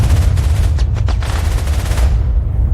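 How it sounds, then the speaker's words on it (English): Sustained, loud German machine-gun fire in a battlefield scene from the war film Saving Private Ryan, with dense overlapping bursts and heavy low rumble running without pause. "The German machine guns were firing relentlessly, making it impossible for the soldiers to advance."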